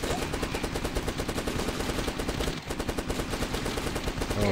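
The Last Stand game unleashes relentless machine-gun fire, a continuous, loud, evenly paced stream of rapid shots broken only by a split-second gap.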